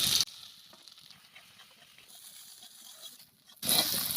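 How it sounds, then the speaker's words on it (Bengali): Gram-flour-coated soya chunks fry in hot oil in a kadai, a bright sizzle that is loud at the start and end with a quieter, fainter crackle in between. "এবার বেসনের কোটিং করে রাখা সয়াবিনগুলো ভেজে নেব।"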